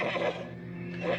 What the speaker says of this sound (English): I'll go see to the horses.